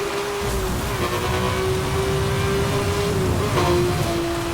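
Steady rain hiss in the racing game Need for Speed: Hot Pursuit (2010), blended with a constant car engine drone that holds an even pitch throughout, loud and continuous with no talk.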